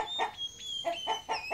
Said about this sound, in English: Cock.